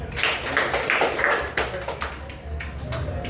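Crowd clapping at a student association leadership election, a steady wash of many hands under a room murmur, moderately loud throughout with no clear pauses.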